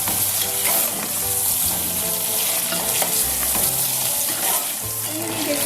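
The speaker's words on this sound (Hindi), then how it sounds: "चिकन को हम इस तरह भूनेंगे थोड़ा।" Chicken pieces being fried and stirred in a pan for chicken kachnar, a steady loud sizzle with repeated scraping stir strokes throughout, no talking.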